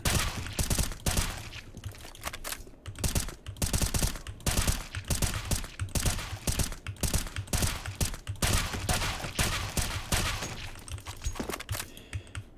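Video game gunfire from CS:GO aim practice pops in rapid, irregular bursts of single shots and quick strings, continuous for over twelve seconds at a moderate, even level.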